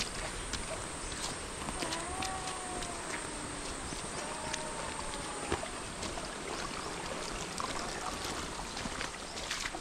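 Water streams steadily near Bokadkada waterfall, a continuous broadband rush with scattered small splashes and a few faint whistle-like tones mixed in, no clear speech.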